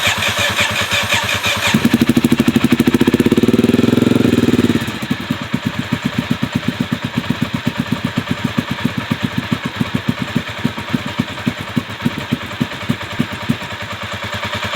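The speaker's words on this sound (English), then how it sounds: "you could hear them idling together for a second" Two Honda GB500 motorcycles idle together, with a steady, deep single-cylinder thump close by. A brief louder surge is followed by one bike shutting off, leaving a single lumpy idle that beats on to the end.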